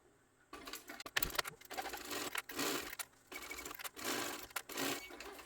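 A sewing machine stitches along the edge of vinyl on a crossbody bag, running in several bursts of rapid mechanical whirring separated by short pauses, fairly close and with no talk.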